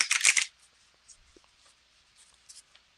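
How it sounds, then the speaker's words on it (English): Tarot cards shuffled by hand, a brief close riffling burst at the start followed by faint scattered card rustles and taps in near quiet. "Hold on, let me get these shuffled."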